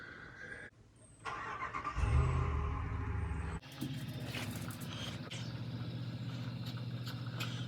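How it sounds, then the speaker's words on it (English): A vehicle backs a boat trailer out toward a dock to launch a pontoon boat: a steady, close car engine hums throughout, with a brief louder surge and a pause partway through, then an even idle-like drone. "That nice lady is gonna back the trailer out."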